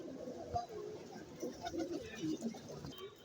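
Punjabi pigeons cooing on a rooftop, soft low burbling coos repeating throughout, close by, with faint background voices.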